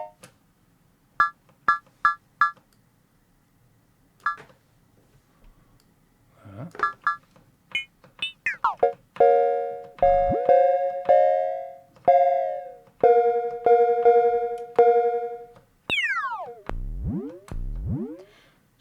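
Vermona DRM1 MkIV analog drum machine multi percussion voice plays short tuned pitched hits, bright clustered blips then repeated ringing tones at different pitches, with a few sweeping pitch drops near the end.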